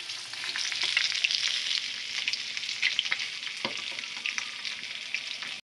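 Fish frying in a pan alongside a pot of meat being braised, a dense, steady hiss of hot oil with scattered crackles and pops, close and continuous with no talking.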